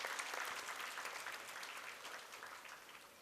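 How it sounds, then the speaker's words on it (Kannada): Audience applause at a preschool and daycare annual day function, honouring former soldiers seated in the hall; steady, dense clapping from many hands that slowly fades over a few seconds, with no talk over it. "ಸೊ ಚಪ್ಪಾಳೆ ಯಾರಿಗಾದ್ರೂ ಸಲ್ಲಬೇಕಾಗಿದ್ದರೆ ಅಲ್ಲಿ ಕುಂತಂಥ ಮಾಜಿ ಸೈನಿಕರಿಗೆ ಸಲ್ಲಬೇಕಾಗಿದ್ದು"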